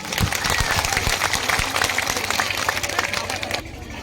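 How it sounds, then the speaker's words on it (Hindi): A church congregation claps loudly and steadily together, a dense continuous wash of many hands with crowd noise, ending abruptly near the end. "यीशु मसीह की ताली बजा देंगे।"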